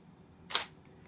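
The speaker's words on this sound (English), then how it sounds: "So first off, the shutter" A Nikon D750 full-frame DSLR fires its shutter once, a single crisp mechanical click that stands alone against faint room noise, with a slight trailing tick a moment after.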